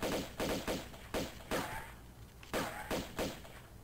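Lara's pistols in Tomb Raider II Remastered fire at spiders in quick irregular pairs, eight or nine sharp, loud, close cracks with short echoing tails and a brief pause midway.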